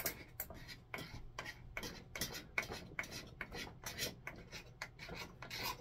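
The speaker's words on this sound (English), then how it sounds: "I guess we'll get a smaller knife and do the inside of the handle" Small knife scraping thick packed dirt and grime from inside a wooden handsaw handle, a series of faint, close rasping strokes in an irregular rhythm with no talk.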